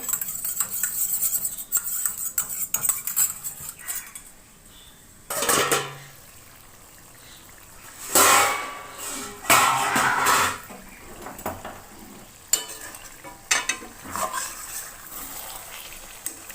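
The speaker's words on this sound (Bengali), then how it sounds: "ভালো করে মিশিয়ে নেব।" Chicken biryani with saffron and sweet attar being mixed in a pot, with scattered spoon scrapes and clinks against metal coming in short bursts between quiet stretches, close and fairly loud.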